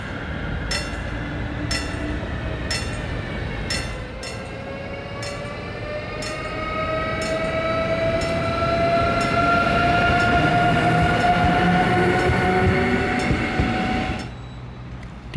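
A regional RE 19 train on the Sonneberg–Coburg line rolls into Rödental Mitte station, with rhythmic wheel clicks over rail joints and a rising, sustained brake squeal that builds loudly before stopping, and no talk.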